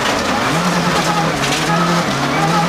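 Armin Schwartz's Toyota rally car on a snowy stage of the 1995 Monte Carlo Rally gives a steady, loud engine drone whose pitch rises and falls with the throttle, set against a broad rushing noise.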